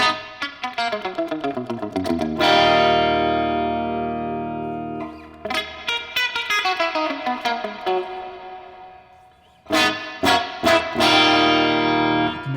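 Electric guitar played through the spring reverb setting of a NuX Mighty Plug headphone amp, with strummed chords and picked notes ringing out into a drippy, splashy reverb tail, several phrases decaying between attacks.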